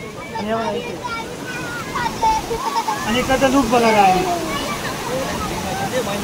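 Water rushes and splashes steadily over Bhushi Dam in Lonavala in a constant roar, with a crowd of people talking over it.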